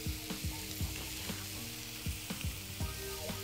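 Food sizzles on a plancha griddle alongside sausages, a steady close frying hiss broken by repeated light scraping and tapping sounds from a utensil.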